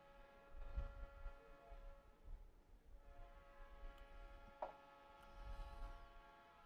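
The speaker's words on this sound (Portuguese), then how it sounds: "fazia tempo que não tinha trem" A train rolls past at a distance with a sustained, multi-tone horn ringing throughout, under low rumbling wheel and track noise and a sharp metallic clank partway through.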